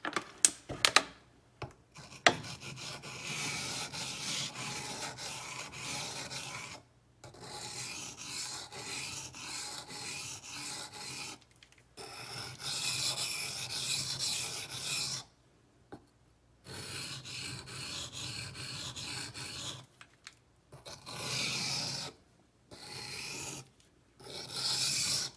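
Steady rasping strokes of a ZT 0620 tanto knife drawn across Gritomatic silicon carbide sharpening stones, repeated in long bursts with brief pauses between passes, close and alone.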